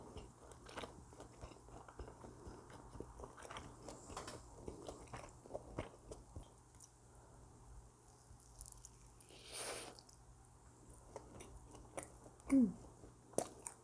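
Bites into a rice burger filled with tuna, kimchi and cheese give a few soft, close crunches and chewing sounds, quiet and spaced apart, with no talk.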